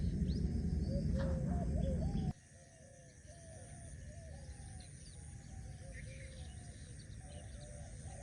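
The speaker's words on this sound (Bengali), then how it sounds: "চারিদিকে সুন্দর পাখির ডাক পাখির ডাক" Several birds call repeatedly in the open over village fields, short bright whistles and chirps with faint cooing, over a low outdoor hum after a loud opening rumble.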